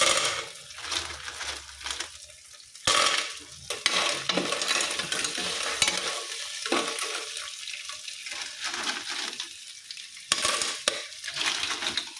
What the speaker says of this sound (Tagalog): Ayan, lalagay na natin yung halaan.